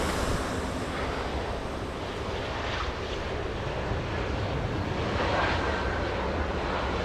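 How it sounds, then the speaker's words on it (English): At LAX, a Southwest Airlines jet in special California One livery, arriving from Sacramento, touches down on the runway amid a broad, steady roar of engines and wind heard from a distance, with no voices. "You heard the touchdown?"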